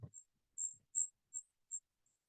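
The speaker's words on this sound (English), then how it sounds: "There's ground crickets down there on the ground." Tiny brown ground crickets chirping in garden leaf litter: a series of about six short, high, thin chirps at a steady pace, faint and otherwise quiet apart from a brief low thump at the start.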